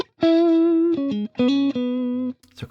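A clean electric guitar tone from an amp simulator plays a short run of sustained single notes with clear, bright harmonics. Brief pauses separate the phrases, and there is no talking.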